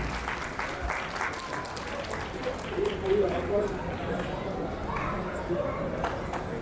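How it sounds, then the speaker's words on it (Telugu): Wedding guests clap together, a rolling burst of applause that swells and fades in the middle, with scattered voices and movement around it at moderate distance. "అయ్యగారు చప్పట్లు కొట్టినట్టు అందరూ ఒకసారి చప్పట్లు కొట్టండి గట్టిగాను"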